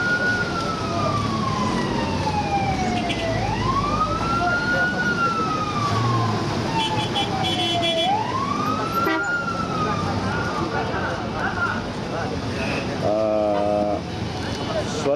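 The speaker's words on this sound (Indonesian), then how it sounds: "Suara sirine tadi adalah suara petugas polisi mengatur" A police siren wails in long rising and falling sweeps through the night streets of Mina during the Hajj crowds, loud and close, with steady crowd and traffic noise underneath.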